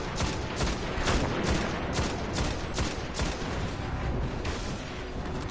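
Gunfire in the Destiny video game: rapid, steady volleys of shots crackle almost without pause over a dense wash of battle noise, with no talking.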